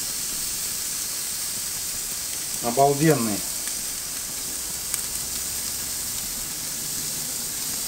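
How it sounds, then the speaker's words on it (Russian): Bacon sizzles and hisses steadily in a hot pan, a constant frying crackle with a short spoken word breaking in briefly. "Теперь обжарим бекон."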